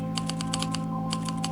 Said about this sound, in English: Oh nice, typewriter.